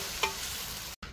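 Onions fry in a pan and get stirred, giving a steady close sizzle with one brief scrape partway through and a short cut near the end.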